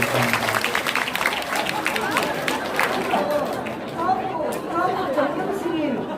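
An audience at a town hall meeting in Busan breaks into a scattered burst of clapping mixed with lively crowd chatter. People are talking throughout.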